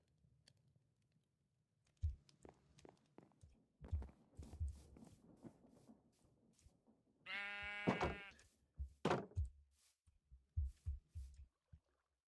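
A sheep bleats once in a Minecraft-style survival multiplayer game, a clear wavering call standing out amid quiet game clicks and footsteps.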